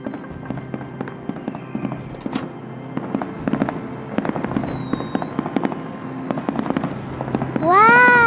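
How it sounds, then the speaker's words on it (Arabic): Animated cartoon fireworks crackle and pop in a rapid, continuous barrage of bursts over a low rumbling bed, with rising whistles and a louder swelling burst near the end. "ألعاب نارية رائعة"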